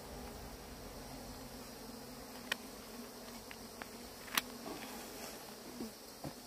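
Honeybees buzz steadily around an open hive box while being transferred by a beekeeper, a soft continuous drone with a few brief clicks and taps over it.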